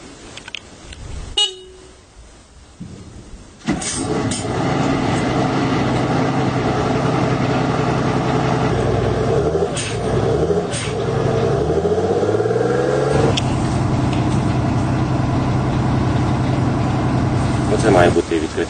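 The engine of a Turkish-built air defense vehicle with an automatic gearbox starts up after a quiet moment and settles into a loud, steady rumble. Its pitch shifts as it revs, a horn-like tone cuts in briefly, and someone speaks early on.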